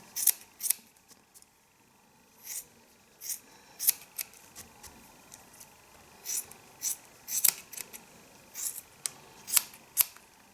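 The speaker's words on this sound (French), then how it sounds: "Vous voyez, je le prends et je coupe." Scissors snip yarn to trim a pompom for a baby hat: a run of small crisp cuts at an uneven pace, some doubled, close and clear over a quiet background.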